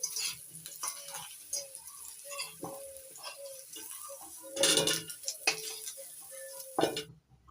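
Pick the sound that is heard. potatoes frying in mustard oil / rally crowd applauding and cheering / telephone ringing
potatoes frying in mustard oil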